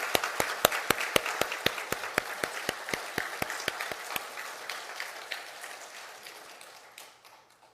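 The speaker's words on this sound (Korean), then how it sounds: "하나님 앞에 영광의 박수를 먼저 드리고 싶습니다." Church congregation clapping in unison, a steady rhythmic beat of sharp claps that stops after about four seconds, leaving a fading tail of a few scattered claps.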